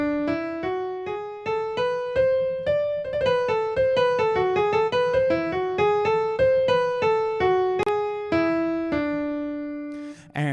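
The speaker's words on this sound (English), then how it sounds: "It's often referred to as the Lydian dominant scale, Lydian dominant." Lydian dominant scale played note by note on a clean pitched instrument, a steady run of evenly spaced tones climbing and then descending, clear and close with no talking.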